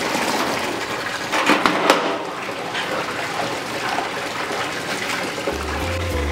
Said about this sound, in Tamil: பச்சை மிளகாவை சூப்பராக வாஷ் பண்ணி